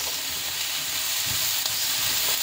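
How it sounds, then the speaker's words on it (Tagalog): Mushrooms frying in a pan give a loud, steady sizzle with bright crackling hiss and occasional stirring scrapes, close up and continuous, with no talking. "Fry natin siya ng 5 minutes"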